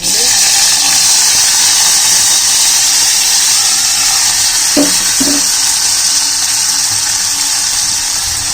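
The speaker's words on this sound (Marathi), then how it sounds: "त्याचा कांदा फ्राय करून घेते" Chopped onion fries in a pan with a steady, loud sizzle that runs unbroken from start to finish, with a couple of brief stirring scrapes partway through.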